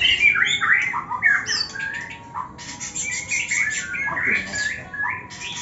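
An oriental magpie-robin sings close by, loud rapid squawks, whistles and chirps in a varied, energetic song with brief pauses.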